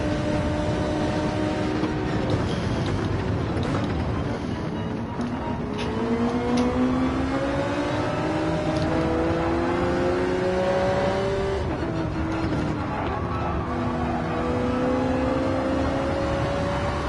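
Ferrari race car engines in Gran Turismo 7 at Barcelona-Catalunya, an older Ferrari against a newer 458-era model, droning steadily with rising and falling revs through gear shifts, loud and continuous with no talk.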